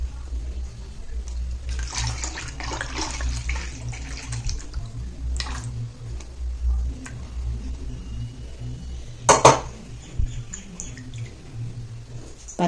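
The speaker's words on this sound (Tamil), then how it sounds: "இப்போ இந்த பாட்டிலே அந்த எண்ணெயை நம்ம வந்து வடிச்சுக்கலாம்." Homemade onion hair oil strained into a bottle makes a thin, trickling liquid pour with faint drips, and a brief louder splash rises near the end.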